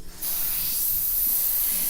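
A steady, close hiss of an airbrush spraying paint at about 35 psi starts almost immediately and continues evenly without a break.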